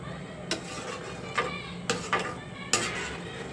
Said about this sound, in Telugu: ఇది ఒక్కసారి కర్రీ మొత్తం బాగా కలిసేటట్టు కలిపేసుకుని